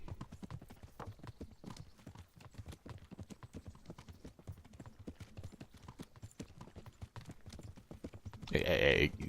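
Horse hooves clip-clopping at a steady riding pace in Kingdom Come: Deliverance, a quiet continuous rhythmic beat of many hoof falls, with a louder burst of noise at the end.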